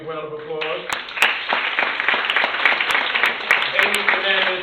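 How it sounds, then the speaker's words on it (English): Applause at a community forum, scattered audience clapping rising after a speaker's voice and continuing with uneven individual claps, while people talk underneath. "give her a big round of applause"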